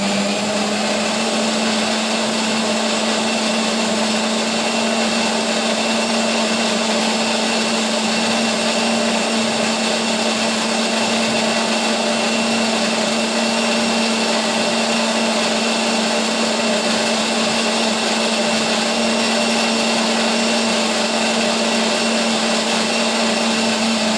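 A mixer grinder whirring steadily as it grinds spice paste for a Kolkata-style egg omelette curry, one loud continuous motor whine with a high buzzing edge, unbroken and close.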